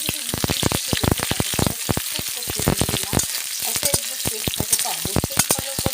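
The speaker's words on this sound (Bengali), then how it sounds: "এবার আমি দারচিনি, লবঙ্গ, এলাচটা দিয়ে দিলাম, কুচানো পেঁয়াজটাও দিয়ে দিলাম।" Chopped onion, cinnamon, cloves and cardamom dropped into hot oil: a loud, close sizzle crackling with rapid sharp pops and stirring clatter, continuous and busy, with no voices.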